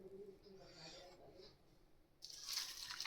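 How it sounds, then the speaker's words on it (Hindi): Water pours into a cooking pot holding a dry herbal joshanda mix, a quiet splashing hiss that starts partway through after a soft murmur of voice and ends a little louder. "इसमें मैं पानी मिला दूँगा"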